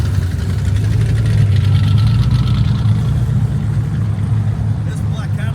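A black Cadillac fitted with a non-original engine idles at a cold, rainy drag-racing event, giving a steady, loud, low rumble that holds for the whole stretch.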